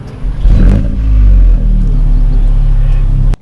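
A Volkswagen Golf GTI Edition 50 engine fires up with a loud burst and rev, then settles into a steady, close, deep rumbling idle that cuts off abruptly at the end.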